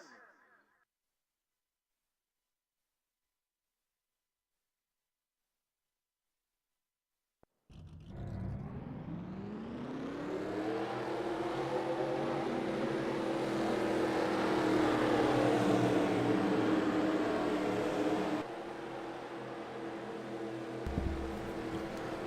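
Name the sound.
race car engines starting and revving, from a racing video game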